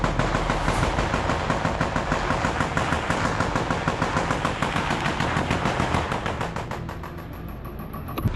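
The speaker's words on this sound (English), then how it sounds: "Ukrainians return fire." Machine gun fire from Ukrainian troops in combat, long rapid continuous bursts with an even rattling rhythm, loud and dense throughout with no speech.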